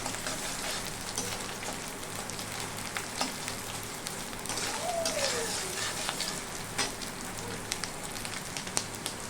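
Grated coconut fries in hot oil over a high-to-medium gas flame, giving a steady, close crackling sizzle dotted with small pops throughout.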